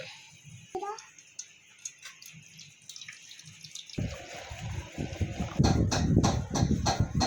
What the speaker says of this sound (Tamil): இப்போ வந்து அரைச்சாச்சு, இதை ஃபில்ட்ரு பண்ணிக்கலாம்.